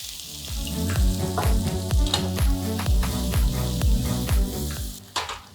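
Chopped onion sizzles and crackles steadily in hot oil over a medium flame, with rhythmic scraping as it is stirred in the pan.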